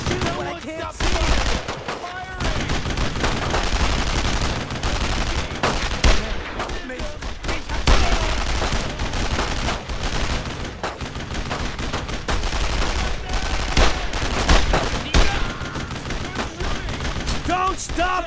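Dense, continuous World War II gunfire in Brothers in Arms: Road to Hill 30, with machine-gun bursts and rifle shots cracking close and loud throughout. Shouted voices sit partly under the din.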